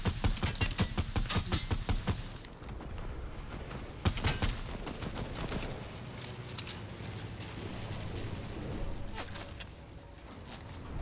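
Rapid bursts of Fortnite gunfire crackle in a dense volley for the first two seconds, then another sharp shot cluster near the four-second mark before scattered distant shots and steady game ambience carry on.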